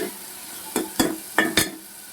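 Small pieces of mutton fry in a pan with a soft steady sizzle, broken by four sharp scraping stirs close to the pan.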